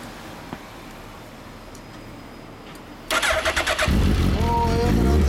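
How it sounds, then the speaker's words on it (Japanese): A 2011 Suzuki GSX1300R Hayabusa fitted with a Yoshimura exhaust starts up after a quiet stretch, giving a loud sputtering catch, a few quick revs, then a strong steady idle close by. "エンジン音聞かせてもらえるかな"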